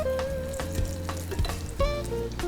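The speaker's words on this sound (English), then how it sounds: "just add the potato fritters into the oil" Potato fritters in batter fry in hot oil with a steady, close sizzle and crackle, broken by a few sharper pops and spatters.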